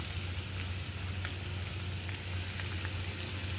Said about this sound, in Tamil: ஒரு பேட்சாக போட்டு ரெடி பண்ணி வச்சு ஃப்ரை பண்ணி எடுக்க வேண்டியது தான்